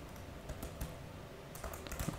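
Brisk typing on a computer keyboard while entering an email address, quiet irregular key clicks with a few louder taps, close and alone without speech.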